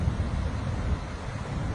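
Storm-driven sea surging over the banks onto Port Royal Main Road during Hurricane Beryl in Jamaica, a close, loud churning wash of water and wind buffeting the microphone in uneven surges.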